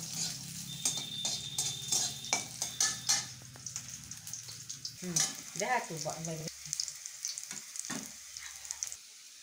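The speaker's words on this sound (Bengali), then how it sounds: "এই যে চুই ঝালকাটা আমি ভালো করে ধুয়ে একটু থেতো করে নিয়েছি, এগুলো একটু ভেজে নেব।" Washed, crushed chui jhal pepper stems fry in oil in a pan for a baghair fish dish, giving a close, steady sizzle with stirring scrapes and utensil clinks, and a voice briefly heard midway.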